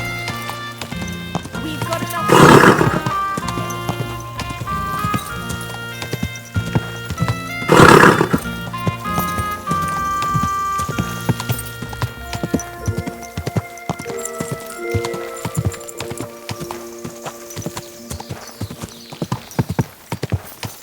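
In the video game Kingdom Come: Deliverance 2, hooves clip-clop in a steady rhythm, broken by two loud horse neighs, over a busy layered background; a voice speaks briefly.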